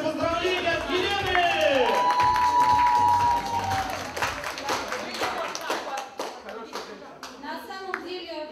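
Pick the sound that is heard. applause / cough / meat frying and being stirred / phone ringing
applause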